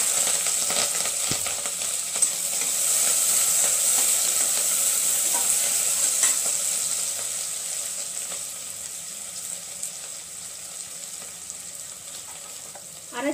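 Onion, green chilli and curry leaves fry in hot oil for meal maker biryani, with a continuous loud sizzle and hiss that eases gradually. Occasional stirring clinks sound close by, and no one speaks.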